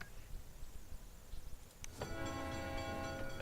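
In the SimCity 2013 city-builder game, a passenger train pulls in after a quiet stretch, its horn blaring loud and sustained under a soft rumble of wheels on the rails.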